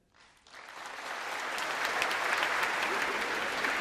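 An audience applauds a speech, the clapping swelling quickly from silence into a dense, steady roar of many hands that holds at full strength.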